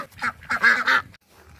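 Ducks and geese quacking and honking close by in a quick burst of several nasal calls, with light outdoor background noise.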